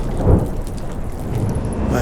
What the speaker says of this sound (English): Didn't bargain for no storm.